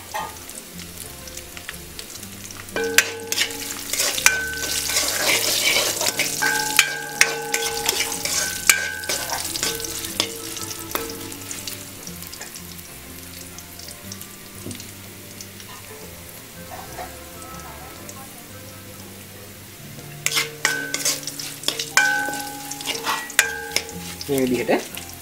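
Dried chillies fry and get stirred in a pan for chickpea kottu, giving a crackling sizzle with scraping spatula strokes over background music and no talking.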